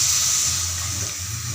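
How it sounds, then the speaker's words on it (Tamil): Water pours into a pan for rava upma, a short continuous hissing splash at close range with a slight tapering, heard alone without speech. "இதே டம்ளரில் நான் 4 கிளாஸ் தண்ணி ஊற்றுவேன்."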